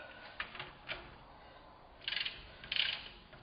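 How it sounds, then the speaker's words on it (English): Torque wrench clicking and ratcheting as a 30mm axle nut is tightened on a Volkswagen Mk4 Jetta during wheel bearing work, giving soft, faint mechanical clicks with a few louder ratchet bursts near the end, with no talk. "And now I'm going to torque this nut."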